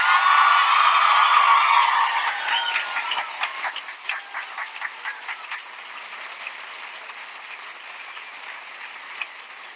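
A graduation crowd cheers and applauds for the class of 2014, loud whoops and clapping at first that fade into scattered claps and a lingering patter of applause.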